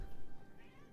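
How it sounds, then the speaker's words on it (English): A half orange cat meows at a door indoors, its cries fairly faint and muffled in a short burst with no talking over it. "You can hear him at the door meowing at me."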